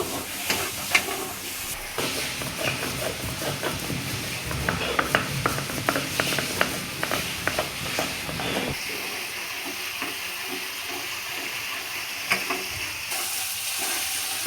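Prawn malai curry masala with tomato paste being stir-fried on a raised flame, with a loud, busy sizzle and rapid spatula scrapes that later settle into a hissing, gentler fry.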